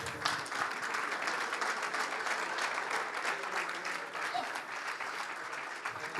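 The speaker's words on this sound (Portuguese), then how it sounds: "Uma salva de palmas para ele." A crowd at a Porto club day celebration, Dia do Clube at Porto D'Mística, claps continuously in dense, steady applause that holds loud and even throughout.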